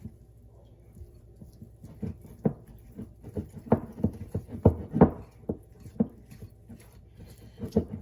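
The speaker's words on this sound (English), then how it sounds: "Just mix that up until everything is nice and smooth" Icing being hand-mixed in a bowl until smooth, giving a run of soft, close, uneven taps and scrapes that speed up in the middle, with no talking.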